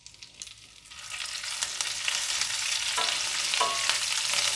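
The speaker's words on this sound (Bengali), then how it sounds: "পেঁয়াজ কুচিগুলো দেওয়ার আগে আমি কারি পাতাগুলো দিয়ে দিচ্ছি।" Curry leaves drop into hot oil in a frying pan for a dhaba-style dal fry. A loud sizzle bursts up after a moment and stays strong and crackling to the end.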